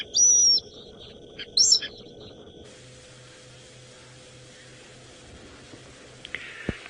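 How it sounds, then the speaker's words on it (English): Owl calls at night during an African safari drive at sunset: two short, high, clear call bursts in quick succession, then a soft steady hum of night ambience and one faint later call. "with all the calls going out here at night, either the big birds of prey like the owls"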